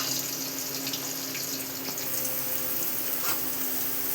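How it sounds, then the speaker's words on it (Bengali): Masoor dal bora, lentil fritters, frying in white oil in a home kitchen, giving a steady, close sizzling hiss that holds evenly throughout, with no voices. "সাদা তেলে যে কোনো ভাজা জিনিসটা খুব ভালো হয়, তাই সাদা তেলে ভেজে নিচ্ছি।"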